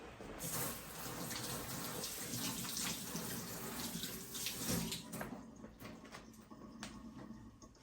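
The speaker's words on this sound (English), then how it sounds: "I'm going to give my hands another quick wash." Running tap water splashes steadily into a sink as hands are washed during bread-making, a continuous broadband rush that eases off near the end.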